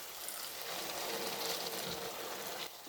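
Water from a small tea glass poured into brinjal dal in a cooking pot, a steady, fairly faint rushing pour lasting a few seconds before stopping abruptly.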